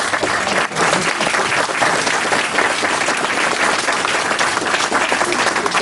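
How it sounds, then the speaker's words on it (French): An audience at a civic ceremony with the mayor present claps loudly and continuously, a thick, even wash of applause that barely dips throughout. "Alors, on applaudit bien fort"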